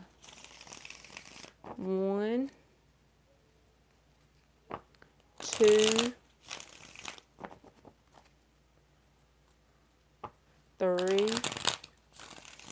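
Tarot cards shuffled in three separate bursts of riffling and flapping, each about a second long, close by, with a voice counting aloud in between.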